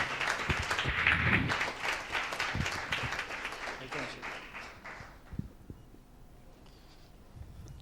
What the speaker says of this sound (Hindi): एक जोरदार ताली के साथ प्रभु के दास भाई कुमार तोलानी का इस जगह पर हम स्वागत करते हैं।